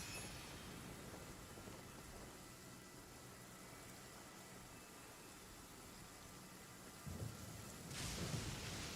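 A thunderstorm in Genshin Impact brings steady hissing rain throughout, then a deep rumble of thunder swells near the end and grows louder.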